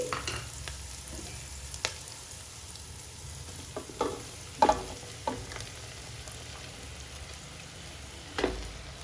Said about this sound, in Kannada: ಈರುಳ್ಳಿ ಫ್ರೈ ಆಗಿದೆ ಈಗ ಬೋಟಿ ಹಾಕ್ತಾ ಇದ್ದೀನಿ ಸೋಸಿರೋಂಥ ಬೋಟಿ